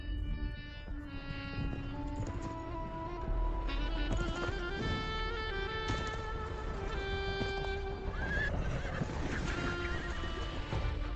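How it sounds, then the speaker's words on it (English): Altai horses neigh and whinny amid a busy, continuous outdoor din, with other animal calls mixed in at moderate loudness. "These strong Altai horses, although bred by herders, have retained their wild nature."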